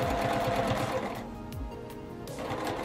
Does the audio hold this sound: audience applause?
no